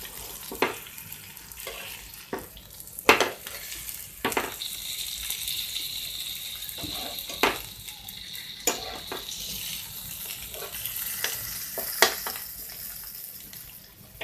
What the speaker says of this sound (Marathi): आपल्याला बांगडा परतून पाहायचा आहे